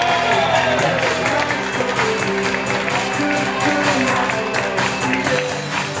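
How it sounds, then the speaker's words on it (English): A wedding reception crowd applauds a couple's grand entrance, a steady, loud wash of clapping and cheering that runs without pause over DJ music. "A round of applause for Jen Land and Mike Gruba."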